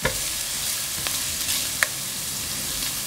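Onion and garlic sauté in a pan with a soft, even sizzle, broken by a few quick stirring clicks and scrapes.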